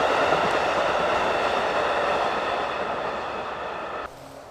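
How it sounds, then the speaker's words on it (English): A train rolls past a disc golf course in a steady, loud rumble of wheels and cars, with no talking, then cuts off abruptly near the end. "Back after a small train break."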